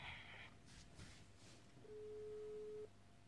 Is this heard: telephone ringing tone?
yes